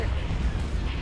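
Heavy ion cannon barrage in a Star Wars space battle game, a continuous rumbling stream of low booming blasts and bursts, loud and close, with no clear gaps between impacts.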